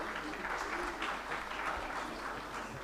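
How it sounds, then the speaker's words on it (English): An audience at an education summit claps for arriving dignitaries, a moderate, uneven patter of many hands that keeps a steady level throughout. "Put your hands together, ladies and gentlemen."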